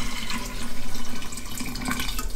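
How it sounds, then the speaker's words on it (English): Water pours steadily into a giant jar being turned into an aquarium, a continuous close gush with no voices over it. "I'm gonna get the rest of that water in there."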